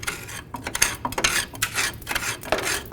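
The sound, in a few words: cleaning crud out of a Chevy S-10 control arm bump stop mount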